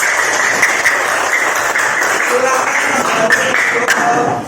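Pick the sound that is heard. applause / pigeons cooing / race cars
applause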